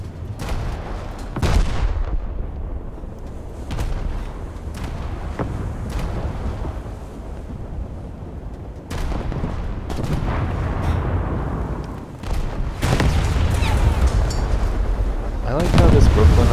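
Scharnhorst battleship main guns firing in World of Warships, loud heavy booms repeating across a naval battle, with rumbling blasts and someone talking over them.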